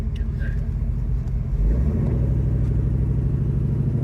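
A 1972 Buick Skylark with a 396 big-block V8 and Turbo 400 transmission idles and then builds into a deeper, louder rev partway through, a steady low engine drone heard from close by.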